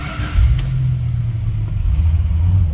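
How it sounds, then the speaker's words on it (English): A 1967 Dodge Coronet R/T with a 440 V8 catching and firing up, a brief crank giving way to a loud, deep, steady rumbling idle that stays close and continuous. "Go ahead and fire this up."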